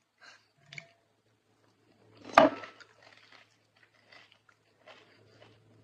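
A close crunchy bite into a panipuri (golgappa) during an eating session, one sharp crackling burst followed by soft moist chewing, with faint breathing around it and no talk.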